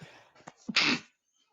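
A single close sneeze: a few quick breathy intakes build to one sharp, hissing burst, then silence.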